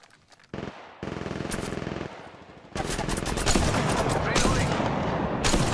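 An attacking squad fires on the player in Apex Legends Mobile, with repeated loud automatic bursts and overlapping shots building into a sustained, intense barrage close by.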